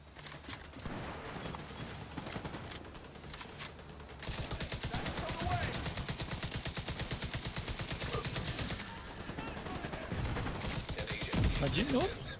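Bursts of rapid automatic gunfire from The Division 2 rattle in dense, fast volleys, growing heavier midway, with players talking faintly underneath.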